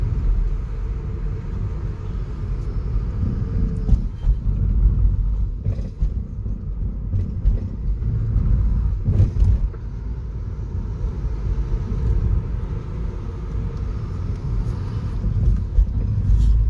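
A car driving along the main street of New Plymouth, steady low rumble of engine and road noise from inside the vehicle, with occasional bumps and thuds and no talking.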